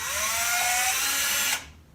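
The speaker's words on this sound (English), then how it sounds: "drill right through the ceiling." A power drill bores up through a ceiling, its motor whining loudly and steadily for about a second and a half before cutting off abruptly, with no voices.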